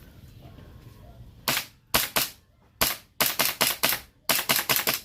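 A replica pistol test-fired in sharp, close snapping reports, about a dozen shots in uneven bursts, some singles and some quick runs of three or four, with quiet room tone between.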